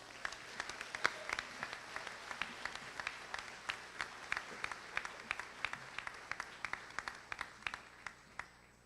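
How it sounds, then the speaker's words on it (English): Audience claps for an award recipient at a middle school 8th grade graduation, a crowd of hands giving sustained, moderately distant applause with individual sharp claps standing out throughout. "Please give a round of applause to the 2022 recipient of the Responsibility Award"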